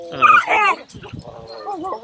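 At an outdoor ham radio gathering in a park, a dog lets out a couple of loud, close barks and whines that blend into people's conversation nearby.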